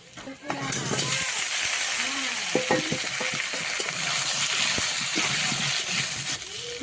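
Washed banana pieces dropped into a pan of frying onion and five-spice, a loud steady sizzle with stirring clatter throughout, while a voice talks over the cooking.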